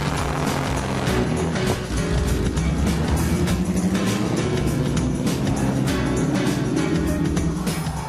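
Vintage Formula One Silver Arrow racing cars drive on the North Loop, a steady loud engine roar that runs without a break through the whole stretch, with no voices.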